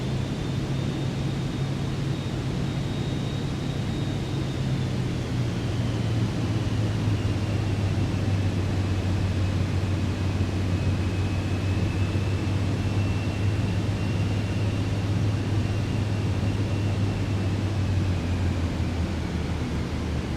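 An aircraft in Microsoft Flight Simulator 2024 comes in to land on a snowy runway at Whitehorse, Canada, with a steady engine drone and airflow roar that holds throughout and one slowly gliding tone, no talk.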